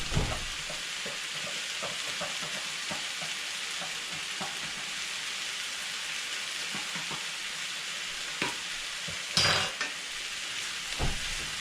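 Onions for a bolognese sizzle steadily in a pan, a soft continuous frying hiss broken by occasional scrapes and clinks as a utensil stirs them, with one louder scrape near the end.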